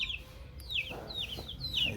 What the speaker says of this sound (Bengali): খুব ভালো উন্নত জাতের একটা মুরগি নিয়ে আসছে আমার ছোট ভাইয়ে।